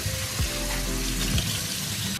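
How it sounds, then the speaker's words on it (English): T-shirt soaking in water, with a steady rush of running water from a tap and a brief sloshing of fabric, close and continuous, no talking. "what you wanna do with a t-shirt is you wanna go ahead and soak it in some water"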